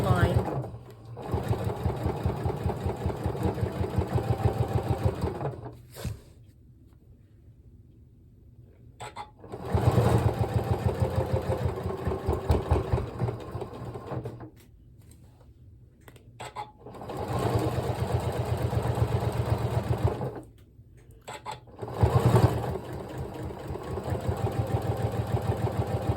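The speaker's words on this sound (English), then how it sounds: "I'm sewing right along that solid line" A sewing machine stitches along a line in paper piecing, running in steady buzzing bursts of a few seconds separated by quiet pauses. A person talks between the bursts.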